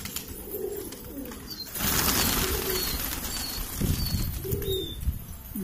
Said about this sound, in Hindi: ये शर्मा जी नए कबूतर लाए